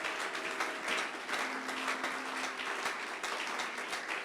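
A church congregation applauds in sustained, steady clapping, acclaiming the Lord during a French-language sermon; the applause is dense and even, lasting several seconds without a break.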